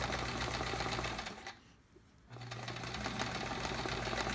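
Sewing machine running steadily for free-motion quilting of handwritten text on a chevron quilt, close and continuous, with a brief pause in the middle before stitching resumes.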